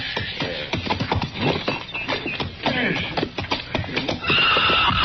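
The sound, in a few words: horse neighing in a radio drama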